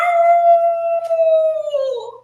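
A dog howls in a single drawn-out, steady wail that slides downward and fades at the end, loud and clear over a quiet background in a holiday storytime.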